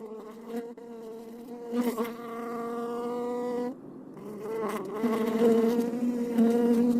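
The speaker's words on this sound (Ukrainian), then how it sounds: "Це бджола збирає нектар на квітах." A bee buzzes continuously up close while collecting nectar on flowers, its droning pitch wavering and swelling as it moves about, with no voices.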